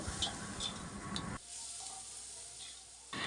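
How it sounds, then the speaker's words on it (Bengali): Onions and previously boiled, frozen green peas fry in a pan over a stove, a loud crackling sizzle that suddenly quiets to a soft hiss midway, then surges back near the end. "এখন আমি সরাসরি চুলায় একটু ভেজে নেব"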